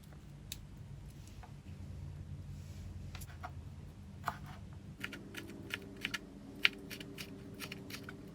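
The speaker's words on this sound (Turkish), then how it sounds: "şimdi sarımsaklarımızı da soyup ince ince doğrayalım" A knife finely chops peeled garlic cloves on a cutting board during home cooking, with sparse, light taps at first, then a quicker run of crisp, close strikes in the second half.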